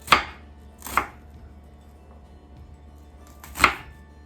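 Three sharp knife chops through an onion halved and cut along its ridges, on a board during gluten-free Philly cheesesteak casserole prep; two close together, then a pause before the third, with no voices.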